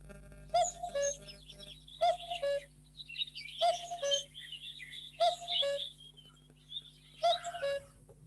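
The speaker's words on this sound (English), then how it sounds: "It was a sound of cuckoo." A cuckoo (koel) calls outdoors in five evenly spaced, fairly faint bursts of clear, ringing notes, each a short phrase repeated about every one and a half seconds, with quiet gaps between.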